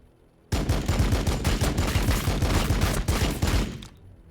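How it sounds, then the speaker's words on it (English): Bolt rifle fire in Warhammer 40k Battlesector erupts suddenly as a loud, rapid burst of repeated shots, continuing steadily for about three seconds before tapering off into quiet. "Let's fire here. Bolt rifle."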